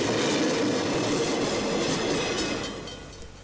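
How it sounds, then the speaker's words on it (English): A train rolls past with steady clickety-clack wheel noise and broad rumble, loud and close, fading slightly toward the end. "All we get to do is watch the trains go by."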